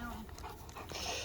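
A dog pants in quick, close breaths alongside faint whimpering, with a person talking over it throughout.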